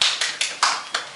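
A church congregation claps in a steady rhythm: five sharp, close hand claps about a fifth of a second apart, with no voices over them.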